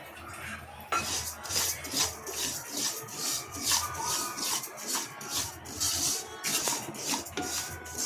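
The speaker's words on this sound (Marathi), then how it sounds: "तर इथे आपल्याला तीळ स्लो गॅसवरती छान खमंग भाजून घ्यायचे आहेत" Sesame seeds dry-roasting in a kadhai on a low gas flame, stirred continuously. The stirring makes close, busy scraping and rubbing with a light gritty rattle of seeds against the metal pan, in rhythmic strokes throughout.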